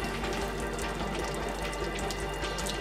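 Coolant draining from an undone top radiator hose on an Audi 2.7 bi-turbo, a steady close splashing and trickling of liquid running throughout.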